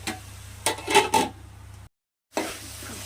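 A pot of taro and egg curry is stirred with a spoon, giving soft scraping and a couple of louder clinks over a low simmering hiss, broken by a short silent gap.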